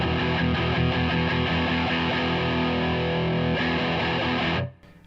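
Dense, buzzing electric guitar through a Mooer Black Secret distortion pedal with treble rolled off, a dark, muffled tone, sustained loudly and then abruptly cut off at the end.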